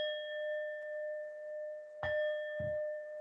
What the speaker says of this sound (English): I'm going to do the gong 3 times